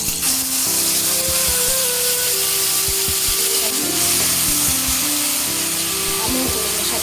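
Onion paste for prawn malai curry frying in oil, giving a loud, dense, continuous sizzle with a hum underneath and a few scraping stirs.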